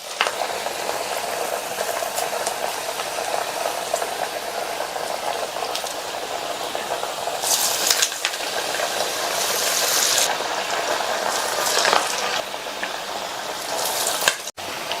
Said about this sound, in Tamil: ஒவ்வொரு வடையா எண்ணெயில சேர்த்துடலாம்.